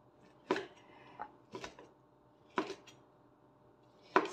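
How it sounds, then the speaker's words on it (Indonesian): A knife strikes a cutting board four times, irregularly, as fatty pork is chopped into pieces before grinding. Each sharp thud stands apart in a quiet kitchen. "Ini mau aku potong-potong dulu biar enak kalau giling."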